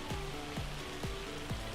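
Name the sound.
rain in Farming Simulator 25 video game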